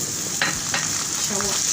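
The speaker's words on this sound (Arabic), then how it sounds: "نشوح كده" Onions sautéing in a pan with garlic and hot sauce added, giving a steady close sizzle with a few scraping stirs of a utensil and no voices.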